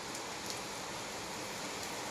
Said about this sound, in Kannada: ಇವತ್ತಂತೂ ಶಿಸ್ತು ಮಳೆ ಕಟ್ಟಾಗತೈತಿ